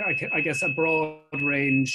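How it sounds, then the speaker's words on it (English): A household smoke alarm sounds in the background as a steady, piercing high electronic tone, running continuously beneath a person talking nearby and persisting through a brief pause in the speech. "Sorry, that's my smoke alarm going off in the background."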